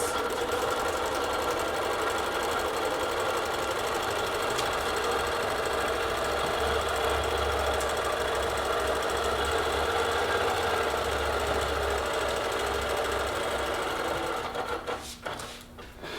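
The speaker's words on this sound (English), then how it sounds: "So my machine is set to toggle 2 to start stitching, and I can toggle 2. And I'm just gonna stitch a straight line all the way across." A sewing machine stitches a straight line across a quilt top while basting, a loud continuous whirring drone that runs steadily for most of the stretch before stopping with a few scattered clicks near the end.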